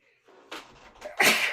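A single sharp human sneeze, preceded by a brief inhale, bursts out loudly and close, with no speech around it.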